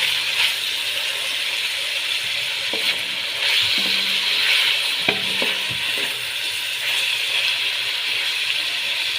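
Chicken cooks with garlic in a pan, giving a steady close sizzle and frying crackle throughout, with a few faint clinks and stirring touches and no talk.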